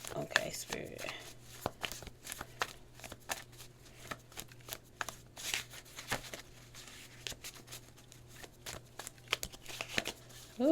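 Playing cards shuffled repeatedly in a quiet room, a steady run of soft riffling flicks and snaps with brief pauses, close by and fairly faint, with some faint voice sounds at the start.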